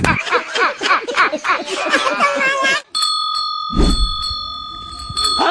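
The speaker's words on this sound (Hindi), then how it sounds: "ये घंटी का आवाज कहाँ से आ रहा है?" Lively chatter and laughter give way to a bright, sustained metallic ring that repeats, clear and close, with voices continuing around it.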